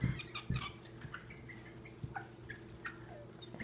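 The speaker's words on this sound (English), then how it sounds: "She sounds exactly like the other chickens." A young chicken just delivered by mail gives several short, high clucks and chirps in a quiet indoor setting, spaced irregularly over a low steady hum.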